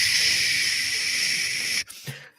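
A voice imitates the hissing static of a bad phone line: a steady, loud broadband hiss for nearly two seconds that cuts off abruptly, followed by a brief faint breath and short low sound.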